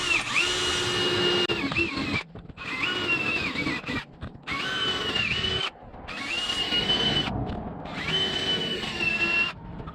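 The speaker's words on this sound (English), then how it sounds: "go ahead and knock these holes out. All right, I'm using a 25/64 bit." A power drill with a 25/64 bit bores holes while a Rock Tamers mud flap hitch step is installed. Several loud, close whining bursts rise and stop in turn, with brief pauses between holes.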